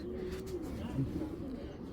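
Tournament flying pigeons, Narayanganj kajla-eyed naptas, coo in a soft low call with a brief rising note, close by over faint background noise.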